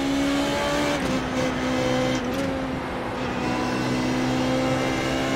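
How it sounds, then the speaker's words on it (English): A Formula Renault 3.5 race car in the iRacing sim at Suzuka: a loud, steady engine drone with a couple of brief throttle dips as the revs twitch. "You can listen to the throttle twitching"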